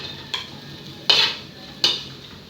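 Garlic and onions sautéing in a pan, a soft steady sizzle broken by a few sharp utensil scrapes and stirs against the metal.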